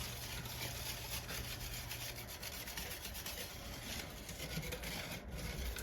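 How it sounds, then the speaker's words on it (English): A spoon stirs caramel frosting against the bottom of a pot on the stove, a continuous scraping, rubbing sound with a soft bubbling texture and no talking. "I'm going to keep stirring. Stir from the bottom of that pot."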